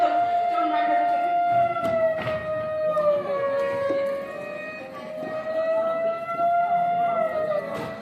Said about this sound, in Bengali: পুলিশের গাড়ি আওয়াজ